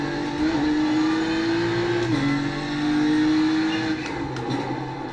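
A BMW M4 GT3 engine in the iRacing simulator on the Nordschleife holds a steady, loud drone, with a gear change breaking the pitch about two seconds in before it climbs again.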